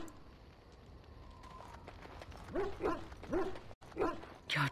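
A dog in the Dragon Age video game makes a few short whimpering yips that grow louder toward the end, over a low ambient game background.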